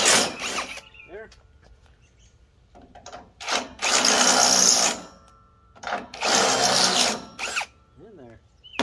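Power drill boring through material with a larger bit while building a trailer ramp, two sustained whining bursts separated by pauses, with brief quiet speech between them.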